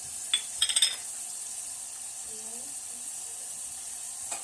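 Two spoons of chutney hit roasted onions in a hot pan, giving a steady low sizzle after a few brief clinks of the spoon against the pan.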